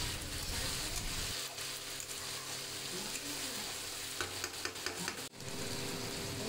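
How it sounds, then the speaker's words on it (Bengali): Meat being stir-fried for Bengali kosha mangsho in a pan, a continuous close sizzle with scraping and stirring clatter and a brief knock near the end. "এখন আমি রাতের জন্য কষা কষা মাংস এখন তৈরি হচ্ছে"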